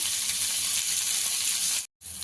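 Steady, close sizzling of onions and green chillies frying in a pan on high heat, a constant bright hiss that cuts out briefly near the end.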